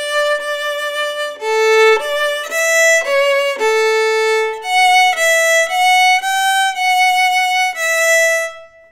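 Solo violin plays a short phrase of the carol Adeste Fideles, rising from D up to E, in a series of clear sustained bowed notes, alone and close, with no talking.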